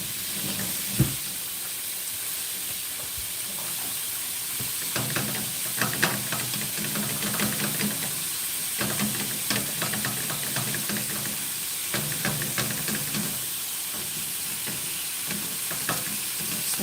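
Quick steak sizzling in a pan with onions and peppers, a steady close frying hiss with occasional stirring scrapes and clicks throughout.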